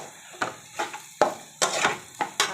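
Sliced chow chow (chayote) stir-fried in a pan, with six or seven distinct scraping, sizzling stirs coming every few tenths of a second, close and fairly quiet, with no talk over them.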